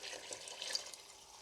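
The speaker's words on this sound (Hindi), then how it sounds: "इसमें जो है ना 2 गिलास में पानी डाल के इसको मैं पका लूँगा" Water poured into a pan of fried potatoes and capsicum makes a faint, splashy trickle that wavers briefly, then eases off.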